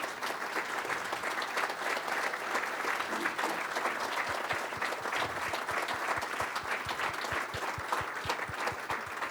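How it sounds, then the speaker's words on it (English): Sustained applause from the audience at an MIT Sloan CIO Leadership Award event for the four finalists, a dense, even wash of many hands clapping that continues steadily throughout. "I'll give you one more round of applause."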